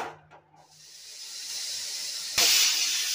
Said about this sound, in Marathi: आता इथे बघा आपल्या 5 शिट्ट्या झालेल्या आहेत